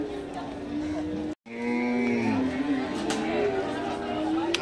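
Cattle lowing at a busy Qurbani cow market, the Hazratpur Paragram haat, with several long deep moos rising over steady crowd chatter and nearby talking.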